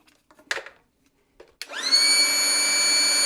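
AstroAI tire inflator air compressor switching on and blowing air through its middle nozzle: a few soft clicks and handling knocks, then a steady whining motor hum with rushing airflow that holds on, close up.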